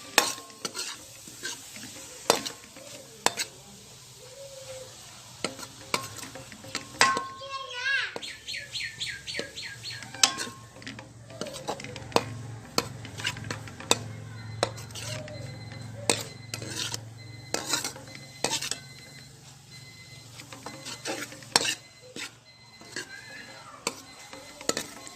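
Peas with green chilli and tomato stirred in a frying pan, giving repeated scraping clatters and soft sizzling, with a faint voice and bird chirps in the background.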